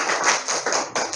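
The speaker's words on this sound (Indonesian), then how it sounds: "tepuk tangannya untuk kelompok B" Brief burst of classroom applause for a student discussion group, several hands clapping unevenly at close range for about a second.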